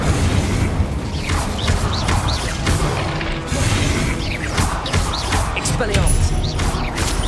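An Incendio fire spell in Hogwarts Legacy, loud bursts and whooshing flares repeating through a busy spell-casting fight with crashing impacts, continuing at a steady high level.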